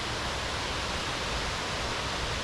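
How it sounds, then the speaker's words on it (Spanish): Roadside waterfall along a scenic, curvy, heavily vegetated highway near Antonio Prado, Brazil, giving a steady, dense broadband rush of falling water that stays even and unbroken throughout, with no voices. "nos encontramos con esta cascada acá"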